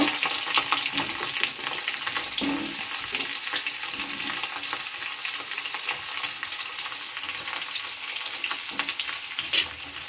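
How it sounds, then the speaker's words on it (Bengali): Pieces of moringa drumstick frying in hot oil give a steady, loud crackling sizzle for the whole stretch, with a few stirring scrapes and sharp pops near the end; no one speaks. "তো এই সজনের ডাঁটাগুলোকে এবার আমি তেলের মধ্যে দিয়ে দেব।"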